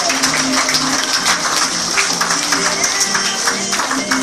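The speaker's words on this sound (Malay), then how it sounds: "Tepukan paling gemuruh untuk Sifu Mazlan kita" Crowd applause for Sifu Mazlan at a testimonial event, dense steady clapping filling the whole moment with some voices mixed in.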